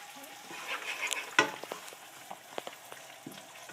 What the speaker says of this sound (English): slide this ham in there so we can start getting some of the flavors into the butter and into the ham